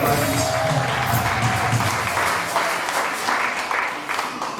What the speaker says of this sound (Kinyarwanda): tuyikomere amashyi Imana yacu